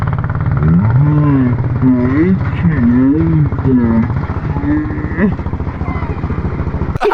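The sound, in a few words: go-kart engine revving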